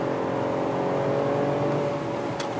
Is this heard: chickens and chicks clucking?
no